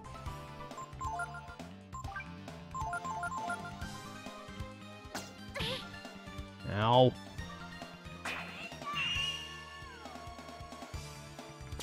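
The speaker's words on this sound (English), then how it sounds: "every spell has a different sound effect" Spell effects from the video game Breath of Fire III ring out in a battle over game music, with chiming tones and sweeping pitch glides, while a voice talks briefly over them.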